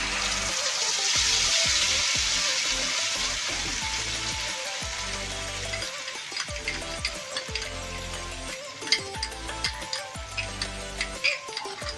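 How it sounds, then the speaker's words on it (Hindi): Blended onion and tomato paste frying in hot oil over medium-low heat with bay leaves, giving a steady close sizzle with occasional light stirring clicks. "जो हमने प्याज टमाटर का पेस्ट मिक्सी किया था वो डाल देते हैं।"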